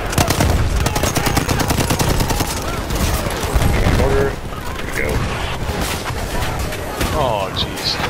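Mortar and gunfire in a war video game, rapid bursts of automatic fire and heavy booming blasts crowding the first half, then easing into scattered explosions and rattling shots as players talk over the action.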